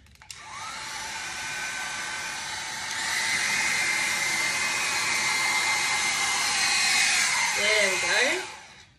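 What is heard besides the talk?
hair dryer blowing paint in a dutch pour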